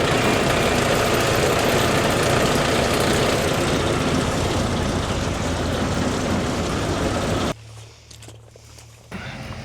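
A Deutz-Fahr tractor idles on a farm after being unhooked from a diet wagon, giving a loud, steady engine drone that drops off briefly near the end and then returns.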